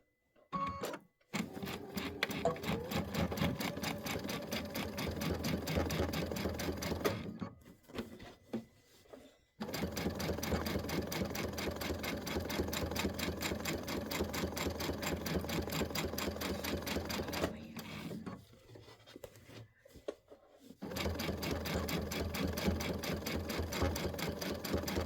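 Sewing machine stitching through layers of a quilt, a steady rapid mechanical whirr running in long stretches, close and fairly quiet, broken by a few brief pauses.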